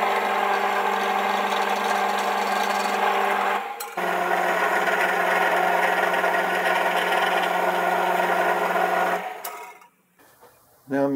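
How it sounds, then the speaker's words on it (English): A power drill runs with a steady, loud whine while drilling into nylon, briefly stops, restarts, then winds down to quiet with a few small clicks. "drill a hole through to the centre and tap that for a grub screw"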